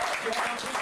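A church congregation applauds in praise, steady clapping and cheering filling the room in a short, even burst, with voices mixed into the noise.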